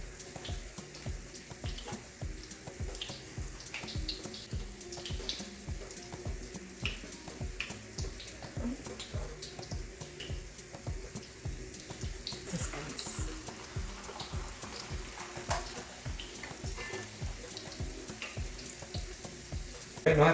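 Churro dough frying in hot oil makes a continuous, fairly quiet bubbling sizzle, spotted with crackles and pops.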